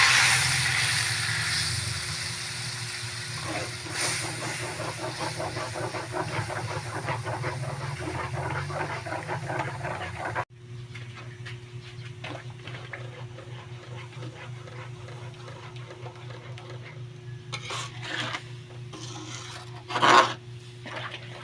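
Pig's blood cooking with sautéed onion and garlic for Ilocano dinuguan, a steady steamy hiss with scraping stirring strokes in the pan, louder at first, then quieter with occasional clatters.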